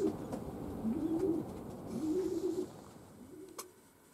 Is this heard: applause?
no